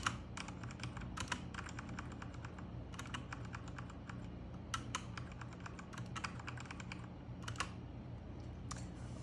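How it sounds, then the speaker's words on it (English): Steady typing on a computer keyboard, with rapid clicking keystrokes and occasional heavier space bar presses, close and clear over a low background hum, no voices. "we're going to use the space bar to separate those two words"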